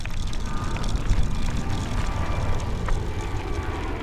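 A steady, loud roar of an airplane engine drones continuously overhead with no breaks or speech.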